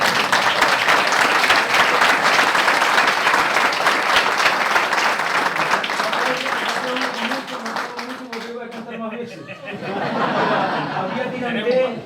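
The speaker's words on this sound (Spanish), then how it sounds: "Un aplauso, ¿no?" Audience applause during a lecture on Canary Islands folk music, loud sustained clapping from a crowd with some chuckles mixed in, fading after about eight seconds as voices and laughter take over.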